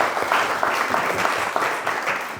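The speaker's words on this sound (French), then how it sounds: "On peut l'applaudir." Audience at a personal-development coaching event applauds a speaker, a steady dense patter of many hands clapping throughout.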